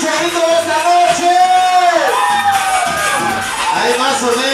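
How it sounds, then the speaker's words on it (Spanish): Live crowd at a sonido dance event shouting, whooping and cheering together, a loud sustained mass of voices with rising and falling yells throughout. "¡Que suene ese pinche grito de esta noche!"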